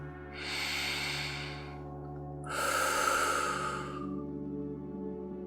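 Deep, slow breaths during a guided relaxation exercise: two long, close, airy inhalation-exhalation sounds, each lasting a couple of seconds, over quiet background hum with no speech.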